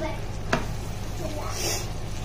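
Marinated chicken for chicken karahi tipped into a hot pan, giving a soft, steady sizzle with a brief clatter near the start, heard faintly under a voice.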